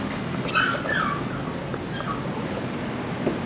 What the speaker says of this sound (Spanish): Oh no, I hear a little dog crying.